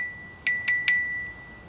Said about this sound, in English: So what comes with the bike? A little bell,